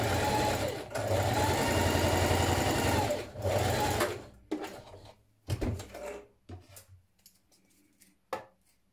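A sewing machine stitches the neck seam of a 1960s vintage dress, running in steady bursts with brief pauses before stopping, after which fabric is handled with light clicks and small clatters close by.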